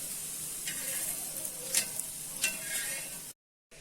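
Palak masala bhajis cooking in a pan with little oil give a steady soft sizzle, with a few brief scraping strokes of a turner before the sound cuts to silence at the end.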